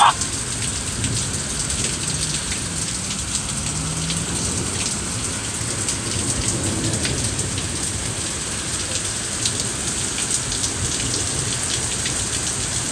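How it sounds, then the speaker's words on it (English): Heavy storm rain pours steadily and loudly onto surfaces, a dense unbroken hiss with scattered drop impacts, with no voices. "the rain is stopping and the clouds are starting to break up"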